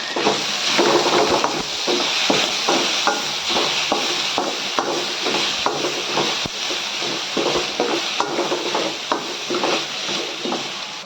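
Tomatoes being sautéed in a pan for kovakkai fry, giving a steady sizzle broken by repeated scraping and stirring knocks of a spatula, close and continuous with no talking.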